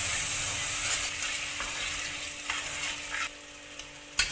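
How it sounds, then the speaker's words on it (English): Tomatoes sautéing with ginger garlic paste in a pan, a soft continuous sizzle with a few spatula scrapes and taps, fairly quiet and without talk. "Saute the tomatoes till it becomes soft."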